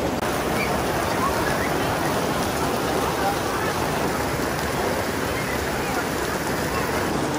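Steady heavy rain pours down in a dense, even hiss, loud and continuous throughout with no voices standing out.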